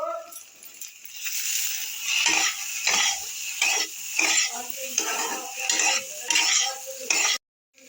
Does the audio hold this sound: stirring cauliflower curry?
yes